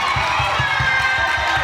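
Crowd applause and cheering fill a church choir gathering, a continuous wash of clapping and shouts over a steady, rhythmic low thump.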